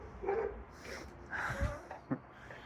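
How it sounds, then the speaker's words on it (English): Several dogs bark and yip in a video game, a few short yaps and whimpers at moderate distance, fairly faint and scattered over about three seconds. "Ignore those nice little doggies over there."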